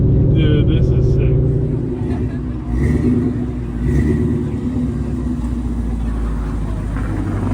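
A Ford Fox Body with a swapped GT500 engine drives hard and revs, a loud, deep rumbling engine note that swells and holds steady, with people talking over it inside the car.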